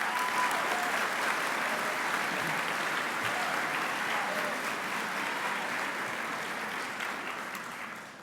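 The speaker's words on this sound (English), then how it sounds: "Can we please all give Dr. Pilch a round of applause?" A school assembly audience gives a long round of applause, dense and steady clapping from a large crowd that slowly tapers off toward the end.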